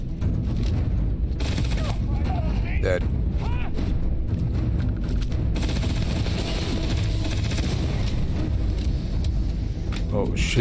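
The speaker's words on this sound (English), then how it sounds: "there's explosions going off." Explosions and gunfire in the video game Starfield rumble loudly and continuously with heavy low booms and rapid bursts, while a voice talks over the combat.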